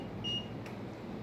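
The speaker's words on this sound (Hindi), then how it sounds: "आप बज़र का साउंड सुन सकते हैं।" A multimeter set to continuity mode, probing an LG 42LW5700 TV motherboard, gives a single short, faint high beep from its buzzer over a quiet hum, with no talk.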